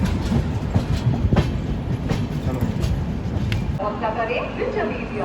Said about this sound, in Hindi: वहाँ पे WAG7 के साथ 86 शेड के साथ लोकोमोटिव